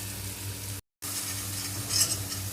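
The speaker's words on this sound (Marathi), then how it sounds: "वाटणही आपण थोडेसे भाजू द्यायचे आहे, जेणेकरून ते मिरचट लागणार नाही" Ground spice paste roasts in a pan with hing and turmeric, giving a steady close sizzle with stirring scrapes, broken by a brief silent gap before the frying resumes.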